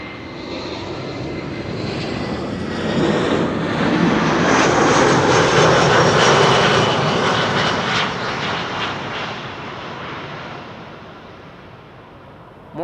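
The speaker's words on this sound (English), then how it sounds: "More EasyJet arriving from Milan" An EasyJet airliner arriving at Amsterdam Schiphol Airport, its jet engines roaring loud and close, swelling to a broad peak midway and then easing off as it passes, with no voices.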